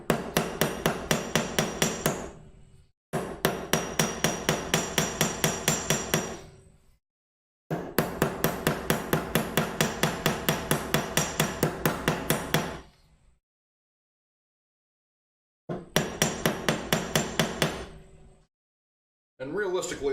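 A metal hammer rapidly beats thin wooden pieces for a curved shadow box. Sharp knocks come in fast, even volleys of several seconds, separated by brief silences.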